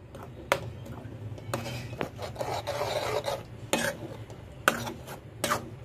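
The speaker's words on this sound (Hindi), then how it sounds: "इसे अच्छे से मिक्स करना है" Coconut barfi mixture with saffron water being stirred in a pan, a close rasping scrape with spoon clinks and knocks recurring irregularly, no one talking.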